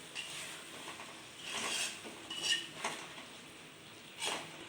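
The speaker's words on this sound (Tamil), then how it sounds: "இப்போ இந்த பன்னீரையும் போட்டுக்கலாம். தட்டி விட்டுக்கலாம்." Paneer pieces are dropped into a cooking pan and stirred, producing several distinct scraping clinks of a spoon against metal over a low background hiss.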